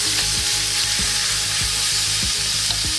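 Beef sizzles steadily in a hot pan with ginger and garlic for a stir-fry, a dense crackling hiss throughout, with a few soft knocks or stirs at regular intervals.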